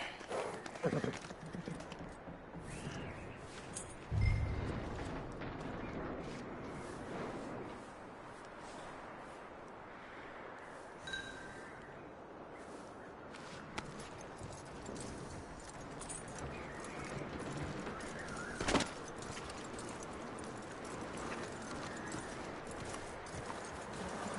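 Horse hooves clip-clop at a steady walking rhythm throughout, moderately close, over a busy ambient soundscape in the video game Red Dead Redemption 2.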